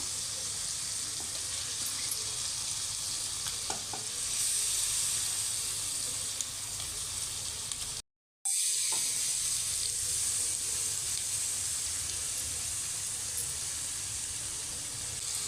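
Chicken for gongura curry fries in a pan with a steady, hissing sizzle, briefly cut off midway before resuming just as evenly.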